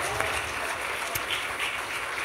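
A church congregation claps steadily and continuously, a dense wash of applause filling the room without pause.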